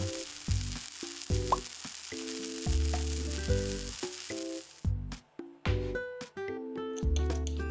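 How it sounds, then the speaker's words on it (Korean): Steady, close sizzling of an egg frying in a hot pan, with intermittent scraping and tapping of a utensil against the pan. "노릇노릇하게 계란을 익혀주세요."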